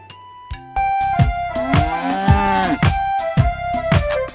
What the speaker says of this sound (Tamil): தோட்டத்தில் மேயது வெள்ளை பசு